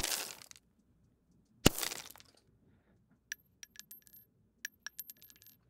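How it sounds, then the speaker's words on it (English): A bullet impact sound effect: a sharp crack followed by a gritty crunch, then a scatter of small light clinks and ticks like debris settling, fairly quiet with no voices. "So here's how the bullet impact should sound."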